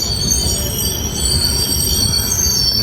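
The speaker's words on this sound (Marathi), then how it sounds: "गाडी परत थांबते." A passenger train on the line from Mumbai to Ratnagiri brakes to a halt at a red signal. Its wheels squeal shrilly and steadily over a loud rumble heard from inside the carriage.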